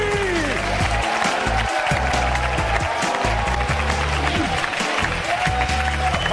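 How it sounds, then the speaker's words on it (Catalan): Studio audience on a Catalan TV game show applauds loudly and steadily for former cyclist guest Melcior Mauri, over a bed of music, with a host's voice calling out over it. "tenim amb nosaltres un fort aplaudiment per Melcior Mauri!"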